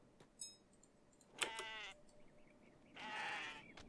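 A goat in the Kenshi video game bleats twice, first with a wavering cry and then a longer, brighter bleat, separated by quiet game ambience, with no talking.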